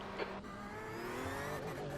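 A cup race car in the iRacing sim game pulls out of the pit lane, its engine note climbing steadily and loudly over two seconds as it accelerates.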